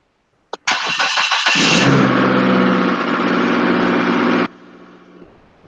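A car engine is started: a short click, a roaring crank and catch, loud revving for about a second, then a steady high idle that cuts off sharply and leaves faint background noise.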